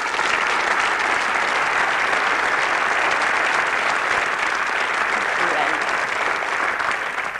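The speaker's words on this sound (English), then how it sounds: "I think they deserve a big round of applause." Sustained, even applause from a studio audience at a Coronation Street anniversary broadcast, loud and continuous with no talk over it.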